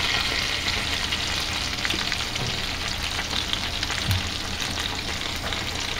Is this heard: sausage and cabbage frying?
yes